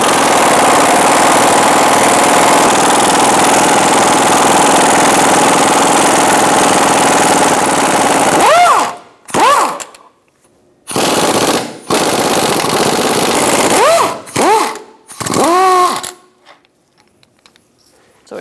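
Impact wrench with a 17mm socket removing control arm bolts on a 2004-2009 Mazda 3, a long loud rattling burst followed by several short choppy bursts separated by silences.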